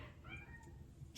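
A single faint house cat meow, brief and soft, set against a quiet room's background hum, with no talking.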